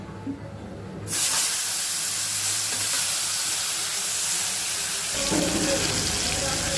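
Pointed gourd (potol) coated in turmeric and salt hits hot oil in a pan with a sudden loud burst of sizzle, then keeps up a steady, close hiss of frying, swelling again near the end.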